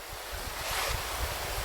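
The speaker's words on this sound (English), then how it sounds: "there is water coming in through the other areas, pouring through" Water pours into an abandoned mine, heard as a steady, close rushing roar with low rumbling underneath and nobody speaking.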